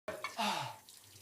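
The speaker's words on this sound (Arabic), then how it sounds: "اشطف المواعين يا واد" Tap water gushes briefly while dishes are rinsed in a kitchen sink, a short splashing rush that trails off, with a voice heard at the start.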